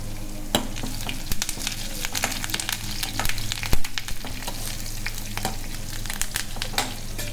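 Mustard seeds and curry leaves fry in hot oil with a steady close sizzle, broken by sharp crackles and pops throughout.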